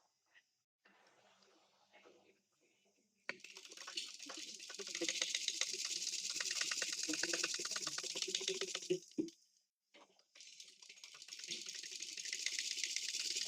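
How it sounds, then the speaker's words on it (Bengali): A sewing machine runs in quick rapid bursts while stitching a sleeve with piping and a wide strip, a close whirring patter that stops briefly in the middle and starts again, quiet between runs. "হাতাটা জয়েন দিয়ে নিচ্ছি, একদম এক সুত রেখে সেলাইটা করব।"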